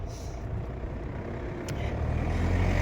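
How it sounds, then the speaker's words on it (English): Moderate road traffic heard from a roadside walk, with a truck rumbling past and a brief hiss like an air brake, then a low engine drone growing louder near the end. "The traffic, as you can hear, isn't too bad."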